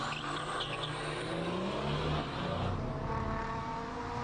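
A Nissan Skyline GTS race car with a 2.5-litre six-cylinder engine runs at a hillclimb, its engine droning steadily and then rising as it pulls away, heard at a moderate distance without speech.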